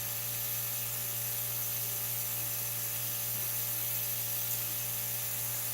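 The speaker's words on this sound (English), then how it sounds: "it's just a soft spray" An airbrush sprays Createx Illustration paint onto Blair synthetic paper, a steady, soft, continuous hiss with a low hum underneath, unbroken for the whole stretch and with no voice.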